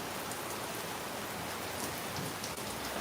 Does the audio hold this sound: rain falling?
yes